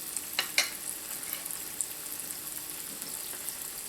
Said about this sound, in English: So the rule for frying these is the same as for frying anything else.